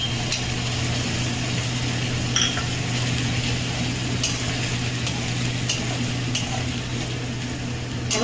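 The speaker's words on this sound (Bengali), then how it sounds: "আরো 2 মিনিট আমি কষে নেব।" Catla fish sautés with ginger paste in a pan, a steady close sizzle under a low constant hum, broken by a few sharp stirring and scraping clicks.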